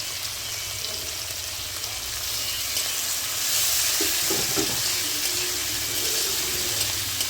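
Chopped green chilli, ginger and garlic fry in a pan for chilli paneer, a loud continuous hiss and sizzle that swells partway through, with a few soft stirring knocks underneath.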